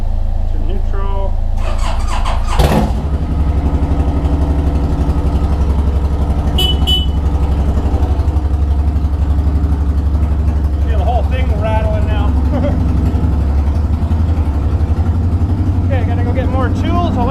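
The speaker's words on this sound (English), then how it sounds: "I'll fire up the Boulevard here too and let him warm up a little bit" A Suzuki Boulevard motorcycle idles while warming up, a loud steady low engine drone running throughout with a few sharp squeaks and clicks on top; speech appears to come and go over it.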